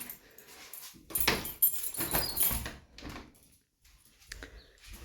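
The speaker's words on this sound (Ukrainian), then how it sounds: "Двері відкриємо." Doors are handled in a village house in spring, with clunks, rattles and sliding or latch sounds coming in bursts between quiet gaps, and a dog whimpers faintly nearby.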